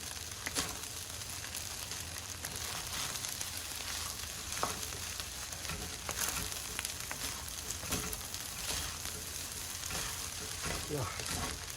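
Filipino fried rice is stir-fried in a crowded wok, a steady close sizzle threaded with scraping and tossing clatters, quiet and unbroken throughout.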